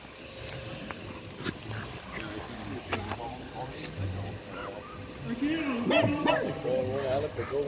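A Westie and a Patterdale terrier bark and yip intermittently, with bursts of sound scattered through the clip, while people talk throughout.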